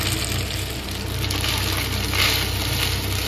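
Boiled pasta fries in a pan with Cookme chowmein masala, giving a steady close sizzle and crackle with faint stirring scrapes throughout.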